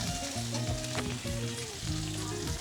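Dried fish (shutki) frying in a pan gives a close, steady hiss and crackle of hot oil, with a tonal, melodic hum running underneath throughout.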